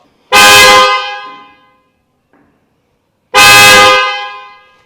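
Two loud, sharp car horn blasts from an aftermarket horn on a Maruti Suzuki Fronx, each lasting about half a second, separated by a few seconds of silence.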